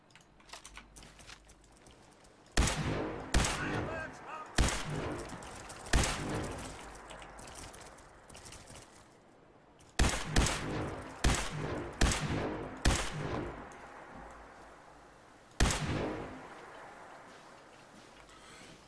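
Rifle gunfire in the video game Fallout 4, with sharp, loud single shots in two bursts of rapid, irregular reports, each ending in a short decaying tail over a quiet background.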